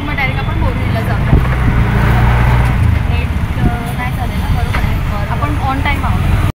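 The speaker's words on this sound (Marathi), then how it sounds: "चल आता मी बसतो रिक्षामध्ये" Auto rickshaw ride on a busy road heading to the railway station: a steady close engine drone runs throughout with passing traffic noise and occasional horn-like tones, and people talk over it.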